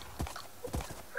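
Horse hooves clip-clop in a Minecraft-style video game, two distinct pairs of muffled thuds about half a second apart, close and moderately loud with no talk.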